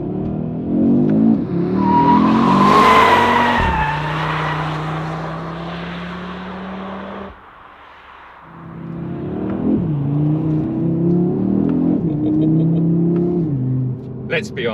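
A 2022 Audi RS 3 with its 2.5-litre turbocharged five-cylinder engine pulls hard and loud up through the gears, the note climbing, dropping at each shift, briefly easing off, then rising again in a strong close-up roar.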